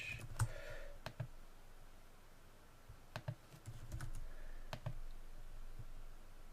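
Keys on a computer keyboard are tapped for a password entry, a few sparse, quiet clicks in small clusters over a faint background hum.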